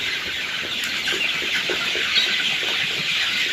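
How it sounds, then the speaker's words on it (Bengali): Chickens on a farm in Nilphamari feeding on fermented maize, with steady clucking and soft pecking spread across a continuous broad rustle of activity, no talking. "দেখেন ভুট্টা ফার্মেন্টেশন পদ্ধতিতে কীরকম খায় মুরগি"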